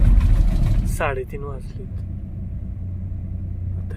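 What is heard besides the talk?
vehicle driving at night, travelling towards Mumbai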